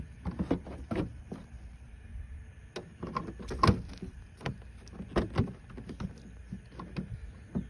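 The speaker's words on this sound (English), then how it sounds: "So that's just a matter of sliding it up into place." A headlight assembly on a 2015 Ram is pushed up into its mounting, producing close, irregular plastic scrapes, knocks and clicks with quiet gaps between them.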